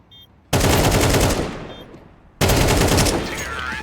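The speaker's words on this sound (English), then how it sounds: "Somebody shot their teammate there. There's a bit of friendly fire." Counter-Strike 2 gunfire during a collegiate match: two loud, sustained bursts of automatic fire, close and dense, separated by a brief quieter gap.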